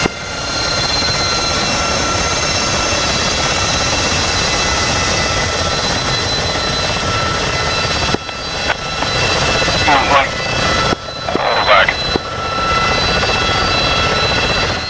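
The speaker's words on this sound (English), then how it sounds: "Helicopters go first." A steady, loud video game helicopter engine roar from DCS World drones on, briefly cut by a few abrupt interruptions with faint voice-like bursts before resuming.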